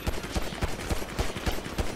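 Rapid bursts of gunfire from Grand Theft Auto V Online, a steady stream of repeated shots in quick rhythm filling the whole stretch, loud and close with no talk over it.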